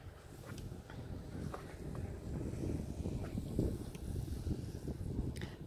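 Quiet gusty wind buffets the microphone at the Lukmanier Pass in Switzerland, 1,915 m up, a low, uneven outdoor rumble that rises and falls without any speech.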